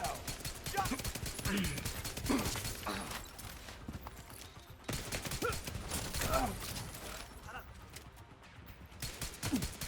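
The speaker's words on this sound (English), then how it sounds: "A wave of 3 LMGs." Three light machine guns fire in a video game, giving dense, rapid bursts of gunfire in repeated volleys, with someone talking over them.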